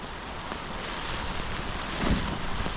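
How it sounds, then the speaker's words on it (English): Strong wind roars over a back-country lake during a canoe trip, a loud continuous rush buffeting the microphone and swelling briefly near the end, with no voices. "The wind is just nuts."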